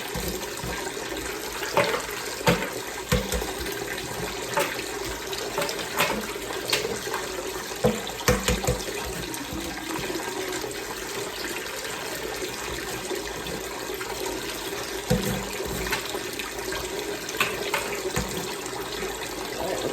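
Water runs steadily from a tap while boiled eggs are rinsed, a continuous splashing hiss, with occasional clicks and knocks of handling in the sink.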